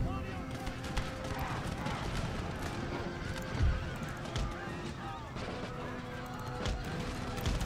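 Cavalry horses in the Empire: Total War video game, with hooves clip-clopping and occasional whinnies amid a busy battle mix of crashes and distant gunfire, running under a man's speech.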